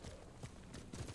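Horse hooves clip-clop in Ghost of Tsushima, a quick run of soft, muffled hoof falls over a steady game background, fairly faint with no talk.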